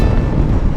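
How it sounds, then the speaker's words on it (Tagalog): Strong wind at a beach in Pagbilao, Quezon buffets the microphone in a loud, low, rumbling roar that lasts under a second. "lakas ng hangin, oh."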